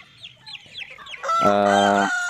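Free-range village chickens cluck in a quick series of calls, then a rooster lets out one loud, sustained crow close by, with several hens audible in the background.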